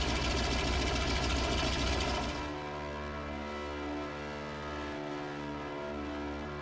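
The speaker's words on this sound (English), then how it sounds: "flying to breakfast in this antique twin engine with one of the best pilots in the entire state" An antique twin-engine airplane drones steadily with a heavy, low engine hum, louder at first and then settling into an even, continuous tone, heard from nearby with no talking.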